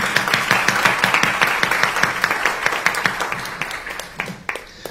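Crowd applause at an in-person training session for wholesalers, many hands clapping in a dense, fairly loud patter with a few sharper individual claps, easing off near the end.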